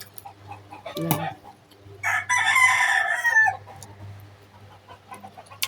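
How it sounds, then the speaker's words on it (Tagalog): A rooster crows loudly for about a second, with a brief cluck just before and a quiet low hum running underneath. "Yung mga manok namin."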